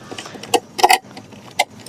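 Key of a TVS iQube electric scooter (Celebration orange limited edition) flipped open, a few quick metallic clicks and jingles close up, one double snap in the middle and a last click near the end.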